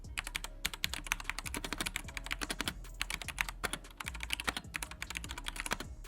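Rapid typing on a MageGee MK-BOX mechanical keyboard with red switches, a steady stream of close, crisp clacks with occasional heavier thocks, heard alone with no voice.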